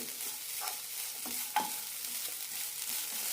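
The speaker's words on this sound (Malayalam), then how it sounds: "ഇതിലേക്ക് അരക്കപ്പ് പൊളിച്ച വെല്ലം ഇടാം ഏലക്കായും നന്നായി മിക്സ് ചെയ്യാം" Jaggery and cardamom are stirred into a sweet kozhukatta filling in a pan, giving soft scraping strokes over a faint, steady sizzle with one sharper clink. The moment is short and quiet, with no talk.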